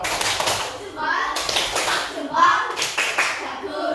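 Elementary school children clap in quick, uneven bursts close by in a classroom, with young voices chattering and calling out over the clapping.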